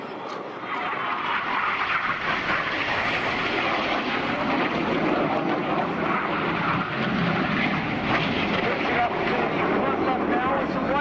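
RAF Red Arrows jets flying the Cyclone manoeuvre at an air show in Portrush, a continuous broad engine roar that holds steady and loud throughout, with a commentator's voice running over it.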